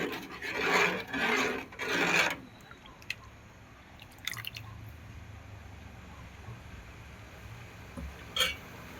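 Dal (lentils) being stirred in a pot for a Gujarati dal bhat: three loud scraping, rasping strokes in the first two seconds, then quieter pot background with a few faint clinks.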